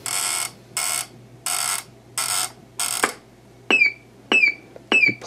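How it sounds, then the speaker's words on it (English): A Panasonic RC-6001 flip clock radio alarm beeps in five evenly spaced bursts, then switches to three sharp, rising electronic chirps repeating at a steady pace, close and clear. "the alarm plays the chirping sound at the time you set"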